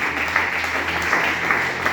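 Applause from a church congregation at a house of prayer, continuous dense clapping with steady rhythmic accents, a low hum underneath.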